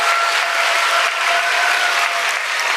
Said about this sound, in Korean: 목사님 등단하실 때까지 박수